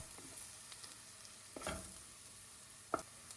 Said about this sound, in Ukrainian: кидаємо нарублену цибулину і перемішуючи, всмажуємо 5 хвилин